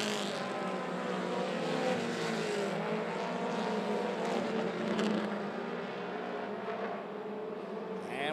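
Mini stock race cars roar around an oval track on the final lap, a dense, steady blend of several engines at full throttle that stays loud and constant throughout.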